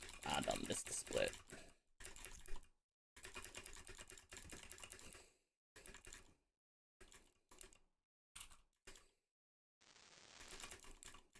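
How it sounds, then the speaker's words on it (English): Romaji is typed on a standard US keyboard in rapid bursts of clicky keystrokes separated by short silences, close and fairly quiet, with a voice briefly audible. "I just have to type the Romaji that it's showing me on the screen here."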